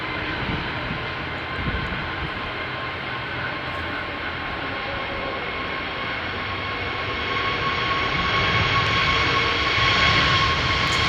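An aircraft taking off at Edinburgh airport: tonal engine whine with a broad roar beneath, building steadily louder toward the end as thrust rises, with no speech.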